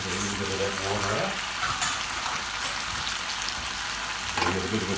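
Stir-fried beef in a hot pan bursts into loud, steady sizzling as water is poured in, the frying hiss filling the whole clip before settling slightly near the end.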